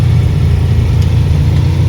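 A LuAZ car drives during a gearbox test, its engine producing a loud, steady, low drone with no speech.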